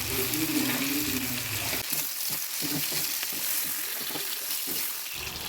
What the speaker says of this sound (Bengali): এটা যখন একটু ভাজা ভাজা হয়ে এসছে তাতে কয়েকটা ছোটো ছোটো টমেটো দিলাম